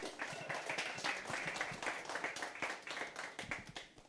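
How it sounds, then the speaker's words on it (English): A workshop audience applauds a business finalist from Zano Clothing, with moderately close clapping from a modest crowd, individual hand strikes audible in an uneven, lively rhythm that continues steadily without talk. "One more time, ladies and gentlemen, a round of applause for Nompumelelo from Zano Clothing"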